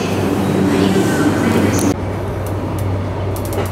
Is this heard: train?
yes